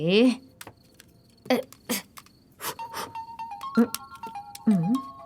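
A phone ringtone plays a stepped melody of steady electronic tones, with voices and scattered noises around it.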